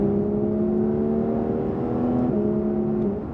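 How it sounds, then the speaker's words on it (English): A Porsche 992 GT3's naturally aspirated 4-litre engine drones with a steady, throaty exhaust note, rising slightly in pitch, loud and close. "that exhaust note with the naturally aspirated 4-litre engine is just, unbelievable"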